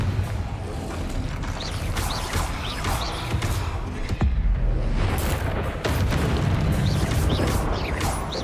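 Confringo explosive spell blasts from Hogwarts Legacy burst in a dense, continuous barrage of booms and crashes, loud and close, with sharp impacts layered over rumbling game noise and no speech.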